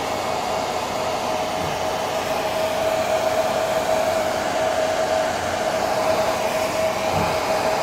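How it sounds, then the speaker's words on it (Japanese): Hair dryer running steadily close by for the whole stretch, a loud even whooshing airflow with a constant whine, no voices. "ちょっとドライヤーの音がわーわー言ってました"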